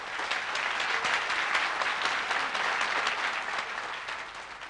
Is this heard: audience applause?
yes